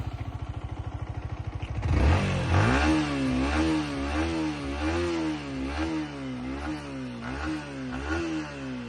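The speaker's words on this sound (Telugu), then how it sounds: "ఒకసారి ఈ వెహికల్ ఇంజిన్ అయితే స్టార్ట్ చేసి చూపిస్తాను, ఒకసారి చూడండి." A 2024 Yamaha MT15 motorcycle starts after a brief stretch of rapid mechanical ticking, then its engine revs up and down in a steady series of swells, close and loud with no talking.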